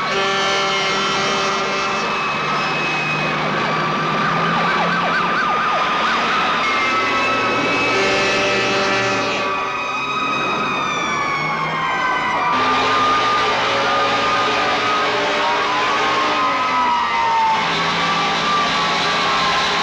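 Fire engine siren approaching, a loud wailing tone rising and falling continuously, layered with a second siren, filling the scene with no speech.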